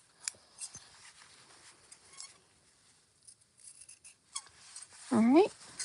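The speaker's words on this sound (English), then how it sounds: "Trim the thread." Scissors trim thread while a park bag is sewn, several light snips and clicks close by, with a voice speaking near the end.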